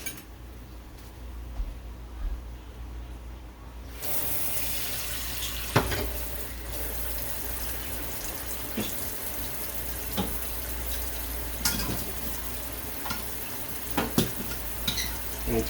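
Oxtail and stewing beef are rinsed under a running kitchen tap, a steady hiss of flowing water that starts suddenly and continues with occasional knocks and clatters from the sink.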